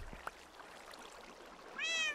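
A cat in Minecraft gives one short, high meow near the end, clear and fairly close over a soft, hissy background.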